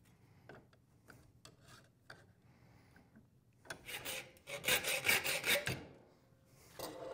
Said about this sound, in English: I'm only going to get so close with to the shape with the hacksaw.